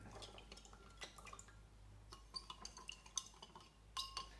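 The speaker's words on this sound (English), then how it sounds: "I'm going to stir these salt solutions, make sure they are dissolved a little bit." Faint clinks and taps of a utensil stirring salt solutions in small experiment containers, light irregular knocks and drips scattered through a quiet room.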